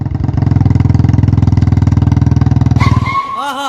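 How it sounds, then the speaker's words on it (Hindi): A Bullet motorcycle engine thumps in a fast, even pulse while being ridden, loud and close for about three seconds before it cuts off and a brief, higher-pitched sound follows. "वाह, मजा आ गया बाइक चलाने में।"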